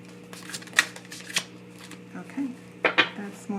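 A deck of tarot cards being shuffled by hand, giving several quick papery riffles and taps close by against a quiet room, with brief low voice sounds.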